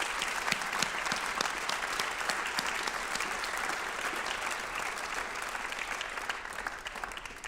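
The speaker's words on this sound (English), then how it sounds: "And if we could just give one more big round of applause for our top 10." An audience at a high school awards night applauds its top ten students with sustained, dense clapping that holds steady and loud for several seconds.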